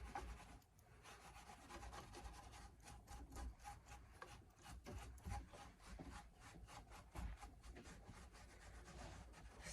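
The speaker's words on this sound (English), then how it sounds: "And the steel wool is also getting off those extra pieces that need to come off." Steel wool rubbing lightly over gilded, distressed wooden furniture, a steady scratchy swishing in repeated back-and-forth strokes, close and moderately quiet with no talking.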